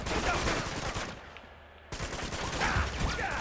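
Rapid bursts of gunfire ring out during a shootout in Uncharted 2 on PS4, loud overlapping shots, a brief lull, then another volley of firing.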